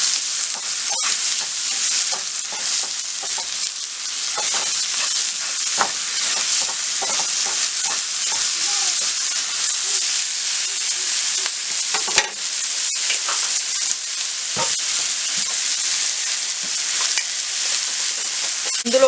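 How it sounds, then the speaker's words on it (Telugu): Sliced onions with a spoonful of salt fry in a pan toward golden brown, giving a continuous loud sizzle with frequent stirring scrapes and taps close by. "ఆనియన్స్ గోల్డెన్ బ్రౌన్ కలర్ వచ్చేంత వరకు ఫ్రై చేసుకోవాలి"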